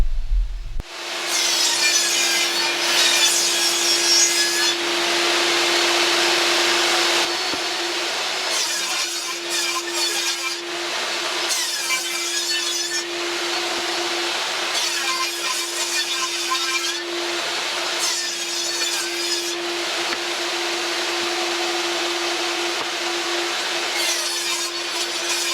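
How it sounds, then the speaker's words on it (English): A power tool cuts a long dado groove down the squared edge of a wooden board, a continuous harsh rasping whine with a steady hum, sustained at close range in several long passes with brief dips between them. "I cut a dado down the length of the squared off edge to create a groove"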